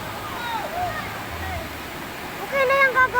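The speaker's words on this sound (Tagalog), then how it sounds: "Makusog kasi dito oh, sa agos na to oh." A strong water current rushes steadily in a broadband wash, with a voice rising over it near the end.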